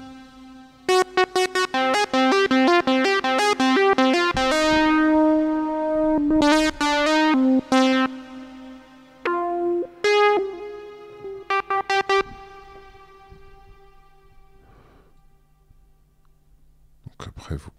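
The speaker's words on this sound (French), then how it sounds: "la reverb qu'on a vue tout à l'heure." A free TAL reverb plugin processes a synth sound, with bright tonal notes and chords that ring out into lingering washes of echo and decay, loud and close, with pauses between phrases.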